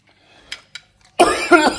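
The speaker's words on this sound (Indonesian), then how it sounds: "Sorry teman-teman ya, batuk ya." A couple of faint throat sounds, then one loud, close cough with a second burst right after.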